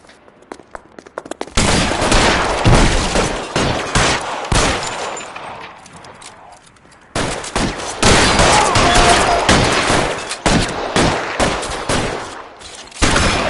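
Heavy gunfire in the crime game L.A. Noire: long, loud fusillades of rapid shots from several guns, with a brief lull in the middle before the shooting resumes, and no voices.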